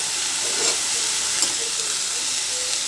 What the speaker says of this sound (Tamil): இப்போ நம்ம துருவி வச்சுருக்க தேங்காயும் சேர்த்து ஒரு கிளறிப்போம்.